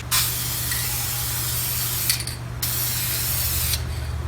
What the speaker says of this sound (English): now I think I can paint and it's going to cover it correctly